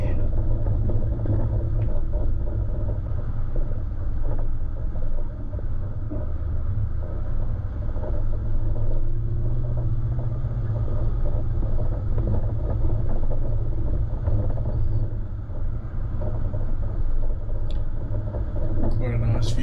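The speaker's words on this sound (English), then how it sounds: "Most of the time on a descent in the 76 gives me more than enough engine braking to control my speed" A Toyota Land Cruiser 76 descends a steep track in low range on engine braking, a steady deep engine rumble close inside the cab, with someone talking over it throughout.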